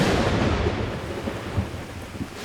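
Heavy rain pours down at night at an outdoor camp, with a deep rolling rumble of thunder filling the first moments and a dense, steady hiss of rainfall continuing close by.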